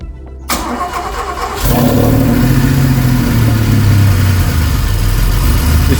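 A DeLorean fitted with a Volvo 760 2.7 engine cranks briefly and then fires, catching into a loud, close, rumbling idle that holds steady, indoors in a garage.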